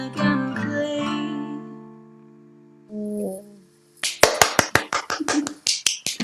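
A quick run of sharp hand claps, loud and close, follows a stretch of sustained singing or humming voice.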